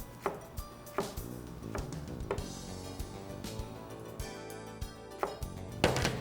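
A knife strikes a cutting board in a handful of irregularly spaced chops, set against a faint background of music.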